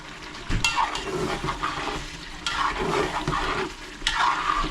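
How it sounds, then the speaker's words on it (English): Meat sizzling and frying in its own fat for curry, with a steady crackle and periodic louder bursts as it is stirred in the pan, close by. "what I'm doing here now is frying this meat with its own oil"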